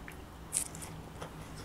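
A bite into a crunchy-skinned stuffed baked potato: a single crisp crunch followed by quieter faint chewing crackles, close and soft with no talking.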